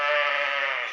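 A lamb gives one sustained, loud, close bleat with a steady wavering tone, heard alone without talk.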